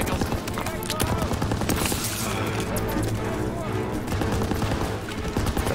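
Rapid suppressive gunfire crackles without pause in Call of Duty: WWII's Death Factory battle, many close and distant shots overlapping into a steady, loud fusillade.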